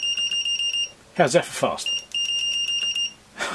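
A BM786 multimeter on continuity test gives steady high-pitched beeps, a long tone, a short break while someone speaks, then another long tone.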